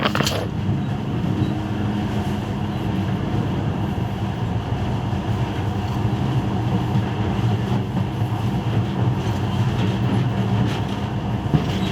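A monorail train in Metro Last Light Redux runs with a steady, loud rolling rumble and faint rhythmic rail clatter, continuous and close throughout.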